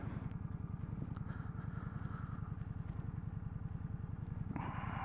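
A motorcycle engine grumbles in a steady, rapid low pulse close by, with a brief clatter near the end.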